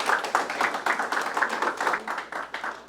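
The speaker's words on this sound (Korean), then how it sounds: "여러분 큰 박수로 맞이해 주시기 바랍니다." An audience at a Christian graduate students' book concert claps to welcome a lecturer for a talk on Revelation, a small crowd's steady, fairly close patter of hands lasting a few seconds without talk.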